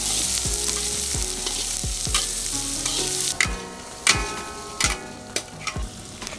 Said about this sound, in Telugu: ఎర్రగడ్డలు బంగారు కలర్లోకి వచ్చేంత వరకు వేగనిద్దాం.